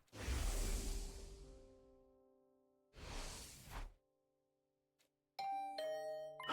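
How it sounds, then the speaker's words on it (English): A doorbell chime in The Hundred Line video game rings out in bright, ringing tones after whooshing transition sounds, with a second chime near the end. "Was that my doorbell?"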